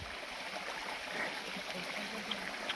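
Water flows steadily downhill along a hillside stream on a climb, a soft, continuous rushing wash heard at a moderate distance, fairly faint and unbroken, with no voices over it.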